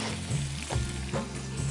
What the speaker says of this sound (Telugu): ఇవి వేగిన తర్వాత ఉల్లిపాయ ముక్కలు, ఇవి కూడా కాస్త ఎర్రగా వచ్చే వరకు కొద్దిగా వేయించాలి